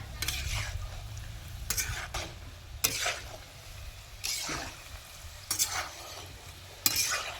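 Shankarpali roast in oil in a pan on a wood-fired village stove, a continuous close sizzle broken by bursts of stirring scrapes every second or so, with a sharp knock near the end.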